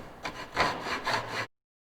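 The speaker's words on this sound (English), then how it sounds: "And then I'm just going to cut a shallow saw kerf" Hand saw cutting a shallow kerf in a wooden block, heard as about three close, rasping back-and-forth strokes alone, then stopping abruptly into silence.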